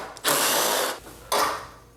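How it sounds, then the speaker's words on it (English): Ratchet or power driver working the last rear gas tank bolt on a Yamaha R6, two close mechanical bursts, the first longer, separated by a short pause. "The last bolt we got to remove is going to be towards the back."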